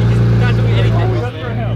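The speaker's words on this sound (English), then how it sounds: "Rev it, Scott" Bugatti supercar at a rally on a police-closed highway, its engine roaring loud and close in a sustained rev with a brief dip, amid crowd noise and talk.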